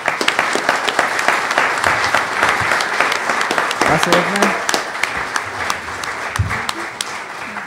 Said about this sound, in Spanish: recibimos con un aplauso a Edna.